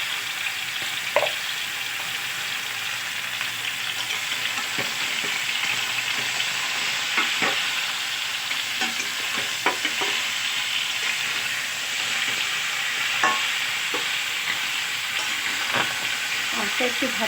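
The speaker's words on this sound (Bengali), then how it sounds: "আমটা একটু ভাজা" Mango pieces fry in a pan for a sweet mango pickle, giving a steady, even sizzle that runs throughout, broken by occasional light scrapes and clicks as they are stirred.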